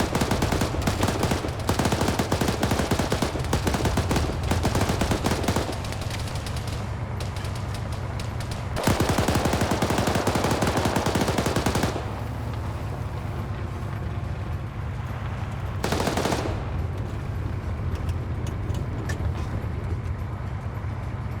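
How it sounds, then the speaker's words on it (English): Sustained machine gun fire in a multiplayer military simulation game, long rapid bursts with brief pauses and shifting intensity, loud and close, heard alone without talk. "No, the gun still appears to be working."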